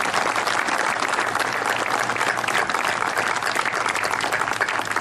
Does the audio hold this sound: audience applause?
yes